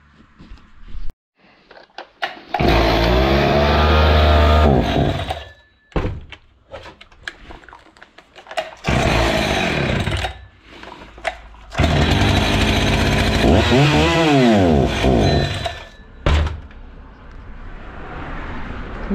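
A Husqvarna 61 chainsaw with a throttle fault runs close up, its two-stroke engine revving in repeated bursts that rise and fall, with short drops toward idle or near silence between them.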